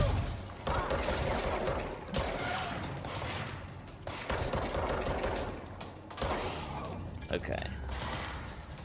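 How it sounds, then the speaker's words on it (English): Enemy gunfire in the video game Control, dense bursts of rapid shots and impacts over a constant game background, with a voice speaking briefly in between. "Who's shooting at me?"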